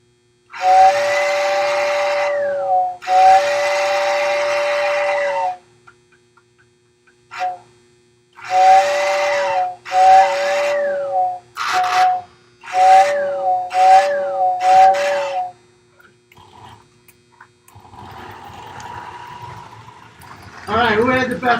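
Pennsylvania 681 steam locomotive whistle gives two long blasts, then a string of shorter clipped toots in quick succession, loud and close, with a voice talking over faint background near the end.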